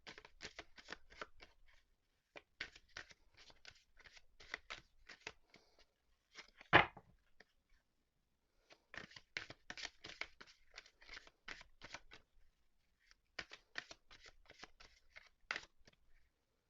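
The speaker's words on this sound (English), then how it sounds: "let's get to shuffling to see what this week has in store for us all" A deck of tarot cards is shuffled close up in repeated bursts of soft riffling and flicking, separated by short quiet gaps, with one sharper slap partway through. No one speaks.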